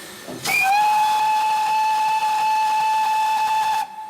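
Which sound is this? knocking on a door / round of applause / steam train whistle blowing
steam train whistle blowing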